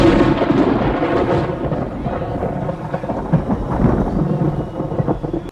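Thunder rumbles and rain pours steadily in an artificial-night scene from the film Gremlins 2, a loud, continuous storm wash with rolling low booms and no voices over it.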